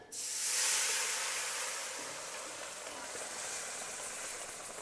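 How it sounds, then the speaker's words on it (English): Beef stock mixture poured into a hot roux, giving a sudden loud hiss and sizzle that stays strong and steady throughout, with no voices. "now we're going to add our beef stock mixture"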